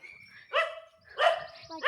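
Two sharp barks from one of two dogs in a rubber plantation, close by, separated by a brief pause, with a fainter third yelp starting at the end.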